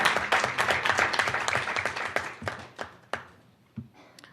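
Audience at a UN event on ending homelessness bursts into applause that starts dense and loud, then thins into scattered individual claps before fading out.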